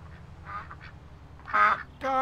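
Ducks quacking in Farming Simulator 19 on the Robillard Flats farm map, two loud nasal quack bursts near the end over a low game soundscape.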